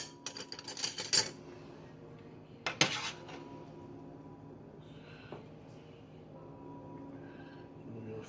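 A metal spoon clinks against a bowl or pan while scooping filling for an egg roll, giving several close, bright clatters early on, then quieter scraping in a still kitchen.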